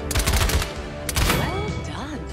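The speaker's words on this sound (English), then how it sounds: "Your primary weapon is your assault rifle." Assault rifle fire in the Paladins video game, with dense rapid bursts of shots and a short pause before a second volley, followed by fading whooshing game effects.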